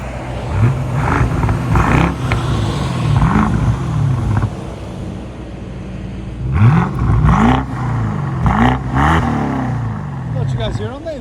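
A 2015 BMW 650i with a 4.4L V8 and muffler delete revs repeatedly from outside, with loud rising and falling engine pulls and short gaps between blips.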